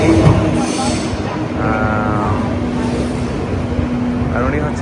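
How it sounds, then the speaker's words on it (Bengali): An IC intercity train pulls into Bremen station in Germany, giving a steady low rumbling hum with a brief squealing tone. People talk nearby throughout. "আমাদের ট্রেন কিন্তু চলে আসছে এটা হচ্ছে আইসি"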